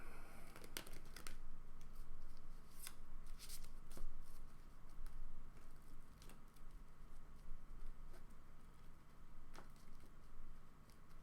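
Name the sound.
shuffling playing cards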